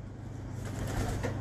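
Pet pigeon cooing close by, a low soft throaty coo with a steady hum underneath, lasting only a moment.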